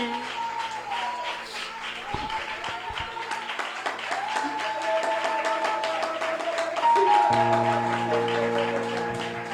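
A church congregation claps during a sermon, a dense steady wash of applause with sustained voices and music tones running underneath, growing slightly louder toward the end.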